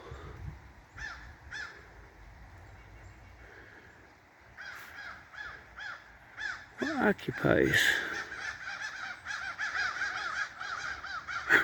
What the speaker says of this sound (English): Good morning, Crow.